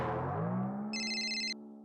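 A phone ringtone chirps in repeated bright electronic pulses for about half a second, over a sustained musical tone, in a sitcom scene.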